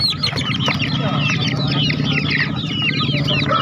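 Bangkok breed chickens cluck and squawk without pause at the Daya chicken market in Makassar, several birds close by, with a low murmur of voices beneath them.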